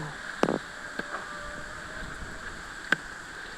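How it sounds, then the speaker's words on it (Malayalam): Steady outdoor wind rushes across the microphone, with a few sharp knocks and faint tonal hums scattered through. "രാവിലെ ഭയങ്കര കാറ്റാണ്"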